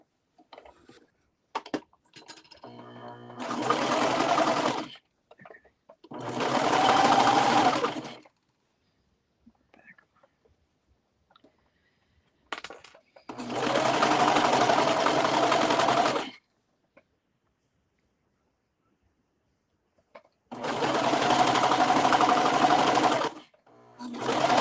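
A sewing machine stitches a Tami Revolution Hoodie from a Pattern Niche pattern, running in four steady bursts of a few seconds each, separated by quiet pauses with faint handling noises.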